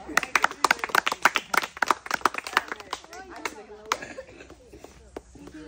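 A group claps hands in bursts of quick, close, sharp claps during a food-spin prize game, with voices talking over and between them before the clapping thins out.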